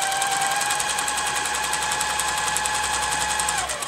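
A quilting sewing machine stitching feathers into a quilt, running in a fast, even needle chatter with a steady motor whine, close and continuous until it slows at the end.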